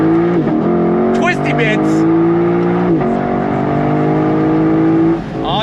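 A Lexus LC500 V8 pulls hard on throttle from inside the cabin, its droning engine tone rising through the gears with brief dips at shifts, while someone talks over it.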